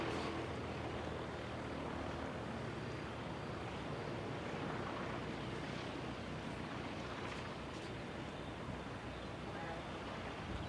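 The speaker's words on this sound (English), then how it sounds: "let's have a look at the aircraft landing here" An aircraft coming in to land: a steady, broad engine roar that holds evenly throughout, heard from a distance and fairly faint.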